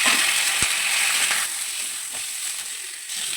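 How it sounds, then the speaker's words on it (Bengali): Fried pointed gourd goes into a hot pan of oil tempered with nigella seeds and two green chillies, giving a loud, steady hissing sizzle that eases slightly after a second, with a single knock near the start and no talking. "কালো জিরাটা ফোড়ন দিয়ে দিলাম, দুটো কাঁচা লঙ্কা। এবার আমি পটল ভাজা দিয়ে দিই।"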